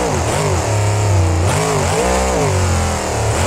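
The Grave Digger monster truck's engine drones and revs in the video game BeamNG Drive, its pitch rising and falling steadily and loudly through a jump with no clear separate landing impact.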